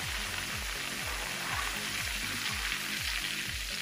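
Spice powder for barbecue chicken wings fries in hot oil with a steady, hissing sizzle. A low, rhythmic pulsing pattern repeats beneath the sizzle throughout.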